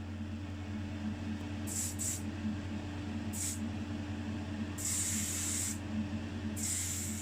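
Spray can applying thick white primer to a Matchbox car: five short hissing bursts of varying length, close up, over a constant low electrical hum.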